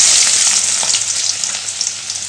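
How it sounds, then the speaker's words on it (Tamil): Mustard seeds fry in hot oil in a pan, giving a loud, close, continuous sizzle with tiny crackling pops throughout. "எண்ணெய் காய்ஞ்சது கடுகு போட்டுக்கோங்க."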